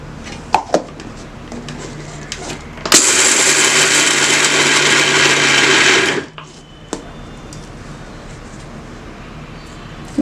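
A blender grinds peanuts for homemade peanut butter in a home kitchen, running loud and steady for about three seconds after a few faint knocks and clatters, then cutting off abruptly into quiet.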